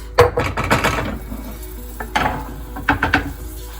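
Tomato paste goes into a hot frying pan and is stirred, giving bursts of scraping and sizzling as a utensil works through it, in short uneven strokes with pauses between.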